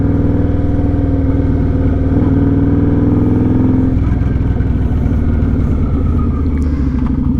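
A 2009 Kawasaki Vulcan 900 cruiser motorcycle runs loud and close through its aftermarket-sounding exhaust, a deep steady throbbing idle that shifts to a rougher, lower rumble partway through, with no talking.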